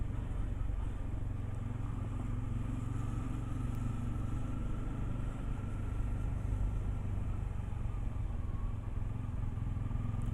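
A motorcycle cruising on a road during a Republic Day group ride, its engine a steady low drone with constant wind rush and no break throughout.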